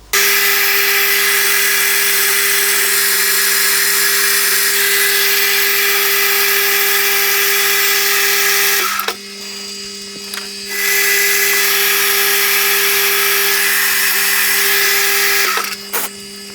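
A power drill whines steadily and loudly up close while boring a hole in a drive axle support for a hot air engine, stopping briefly once before resuming and cutting off near the end.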